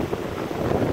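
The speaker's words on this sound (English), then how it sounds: "Pretty windy." Steady wind on Santa Monica Pier buffets the microphone, a continuous low rumbling rush with no voices.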